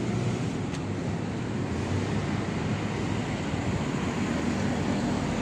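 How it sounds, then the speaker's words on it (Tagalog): Steady, loud wind rushes across the microphone in a continuous roar, like a strong breeze outdoors near open water. "maganda na ang ating hangin, simoy ng hangin"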